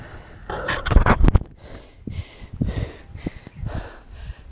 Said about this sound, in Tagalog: Grabe hingal.